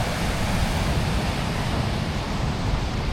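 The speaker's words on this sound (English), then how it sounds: "There's the waves." Surf rolls in at Crescent Head beach in Australia as a steady, dense wash of breaking waves, an even broadband roar with no pauses and no voices.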